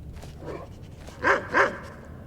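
A dog in the video game Skyrim lets out two short barks close together, fairly loud over a low background hum, with softer yips just before them.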